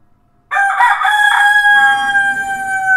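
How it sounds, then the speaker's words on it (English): A rooster crows once, loud and close, a long drawn-out call held steady before trailing off, with soft rustling beneath it and no talk. "so he starts crowing"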